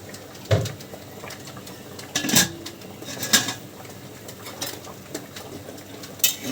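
A pot of khichuri being stirred, with sparse clinks and scrapes of a utensil against the pot at irregular intervals over a quiet background, no speech.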